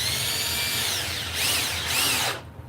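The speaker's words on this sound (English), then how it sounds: "we are going to put in plenty of these screws" A power drill driving screws into wood while building an F-clamp storage rack, with a loud close continuous whine that rises and dips twice as the screw seats, then cuts off abruptly near the end.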